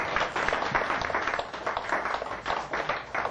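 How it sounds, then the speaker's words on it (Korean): A church congregation claps in welcome during a service, a continuous wash of many hands at moderate, somewhat distant level, swelling slightly in waves with no talking over it. "우리 박수로 환영하도록"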